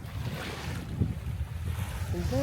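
Waves on a beach in Tacloban, Leyte, a close, rough wash of surf mixed with wind buffeting the microphone, steady and low for a couple of seconds, with a brief voice at the end.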